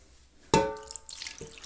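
Brine is poured over three headless, cleaned mackerel laid crosswise in a container, a sudden wet splash followed by a steady trickle and dripping of liquid, close and fairly quiet.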